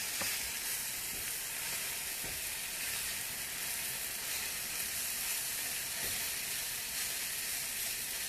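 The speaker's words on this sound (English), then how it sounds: "Finish wilting the spinach." Spinach wilting in a hot pan gives off a steady, loud sizzle with a constant hiss, a few faint clicks of stirring and no talking.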